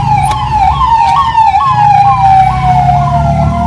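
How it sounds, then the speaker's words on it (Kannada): An ambulance siren wails in a fast repeating up-and-down pattern, loud and close, on a busy ghat section road in Karnataka near Shivamogga, with traffic rumbling beneath it. "ಇಲ್ಲೊಂದು ಆಂಬುಲೆನ್ಸ್ ನೋಡ್ಕೊಳಪ್ಪ"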